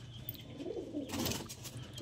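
A male pigeon at a Kolkata pigeon sale coos in low, soft, repeated phrases, with a brief rustle partway through, and no talking over it.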